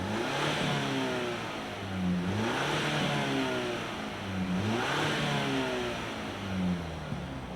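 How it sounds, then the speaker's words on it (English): A 2024 Ford Ranger XL STX pickup engine revs repeatedly, rising and falling in pitch through several pulls, loud and close with a steady rumble between revs. "Let's fire up this Ranger and hear if it makes any noise."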